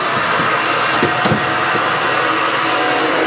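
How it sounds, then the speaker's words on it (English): A vacuum cleaner sucks up debris inside a Whirlpool Duet dryer: a loud, steady roaring whine with a few rattling knocks as bits are pulled in. "I tried vacuuming up with the vacuum"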